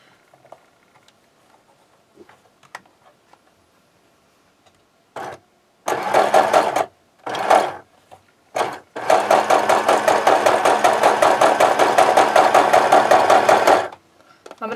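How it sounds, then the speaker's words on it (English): A sewing machine stitches a hole in a handmade angel doll closed, starting with a few short stop-start bursts and then running in one long steady buzzing stretch, close and loud after near silence. "So now I'm going to just quickly stitch the hole closed."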